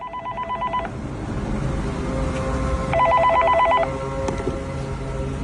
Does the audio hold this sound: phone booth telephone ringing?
yes